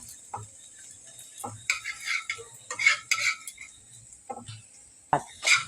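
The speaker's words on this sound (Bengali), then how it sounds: "ডিমটা এবার আমি কুচু কুচু করে নিচ্ছি" A fried egg is chopped up in a pan with a utensil, giving sharp metallic taps and scrapes in short irregular bursts, close and fairly loud, with quiet pauses between them.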